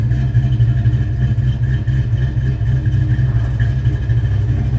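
A 1976 Plymouth Volare's 383 V8 engine idles with a deep, loping rumble and an uneven cam chop, steady and close, with no voices.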